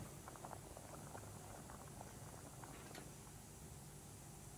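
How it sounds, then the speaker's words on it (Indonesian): Hot oil bubbles steadily in a pan before sliced potatoes go in for frying, a soft, even crackle and fizz with scattered pops, heard up close and alone. "kayak gelembungnya ini ya, ini mendidih ya."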